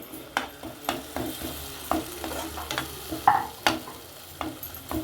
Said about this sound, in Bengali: মশলা থেকে যতক্ষণ তেল না ছাড়ে ততক্ষণ কষাতে হবে